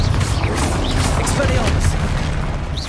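A Confringo blasting spell exploding in the video game Hogwarts Legacy: a loud, continuous booming rumble with crackling debris that fills the whole moment without letting up.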